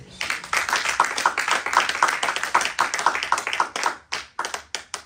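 A church congregation claps together in a steady burst of hand claps, dense and rhythmic at first, then thinning to scattered claps near the end, close and fairly loud.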